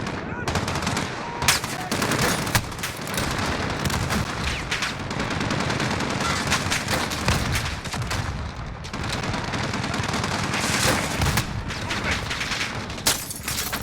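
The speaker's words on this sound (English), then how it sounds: "Neither is that machine gun nest." Sustained machine gun nest fire from Call of Duty: Modern Warfare, a dense, loud rattle of rapid shots layered with scattered gunfire and distant blasts, continuing unbroken throughout.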